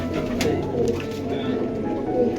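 Pigeons coo in low, repeated murmuring calls, close by, with faint voices in the background.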